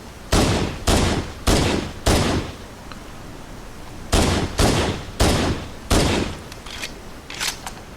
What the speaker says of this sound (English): Now to showcase the power of the great UNSC pistol